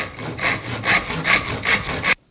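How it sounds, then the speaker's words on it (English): A straight rasp with a file handle files across wood being shaped for axe maintenance, a loud, steady back-and-forth rhythm of about six strokes that ends abruptly. "Primary tool for this is a rasp."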